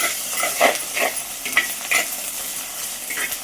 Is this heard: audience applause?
no